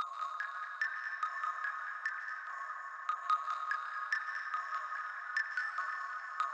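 Cave Heart, a dark pad patch in Logic Pro X, plays thin ringing tones in a steady pattern of repeated pulses, with no low end and no voices.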